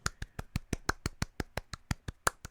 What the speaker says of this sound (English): Kanan's just quietly clapping behind a staircase